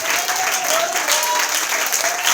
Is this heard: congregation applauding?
yes